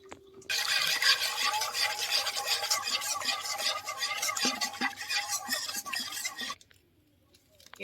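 Fresh chhana is mixed with milk in a bowl for sandesh, giving a close, continuous scraping and rasping stir with light clinks for several seconds before it stops abruptly.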